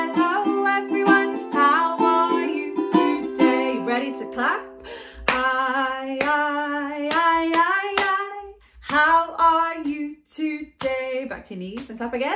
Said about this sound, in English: Knees and clap again.